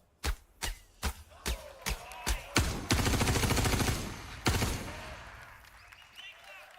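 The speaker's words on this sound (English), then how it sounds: "And then this next demo, we're going to fire some bullets. This is a bit loud" Bullets fired into water in the Star Citizen game, heard as a series of sharp, loud evenly spaced shots followed by a sustained rushing burst of splashing and a final crack that fades out.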